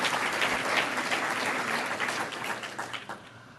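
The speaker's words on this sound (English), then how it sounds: "why don't we give a round of applause to Susan Tam and Frank Pacella" A lecture-hall audience claps steadily for a few seconds, dense and even at first, then thinning slightly toward the end, with no talk over it.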